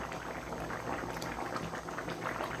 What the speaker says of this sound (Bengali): ভালোভাবে ফুটে গেছে।